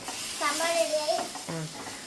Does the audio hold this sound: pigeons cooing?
no